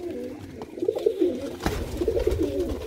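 Pigeons cooing close by, two rounds of soft throaty warbling coos with a brief bump of movement between them and no speech.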